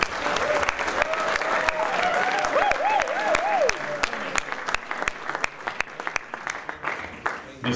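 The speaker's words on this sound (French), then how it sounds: "on l'applaudit pour son témoignage" An audience applauds at an evening gathering after someone's testimony, with dense sustained clapping throughout, a voice briefly audible over it, and the applause thinning toward the end.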